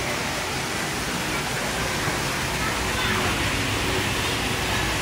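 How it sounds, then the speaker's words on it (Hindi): Water pouring down from above at an aquarium, a steady dense roar of falling water that stays loud and even throughout, with no other sounds standing out. "ये ऊपर से पानी गिर रहा है।"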